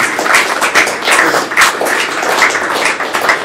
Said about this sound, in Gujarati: વખત જોરદાર તાળીઓ